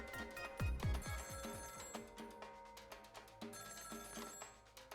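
An internal telephone rings in Ghost Trick: Phantom Detective, a bright electronic bell repeating in bursts over busy game music and percussion, moderately loud with no talking.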